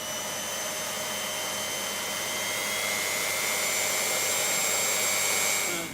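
A power drill fitted with a mixing paddle churns two-part floor leveling resin, giving a steady, loud, continuous motor whine with sustained tonal harmonics that rise slightly in pitch, running alone throughout before cutting off at the end.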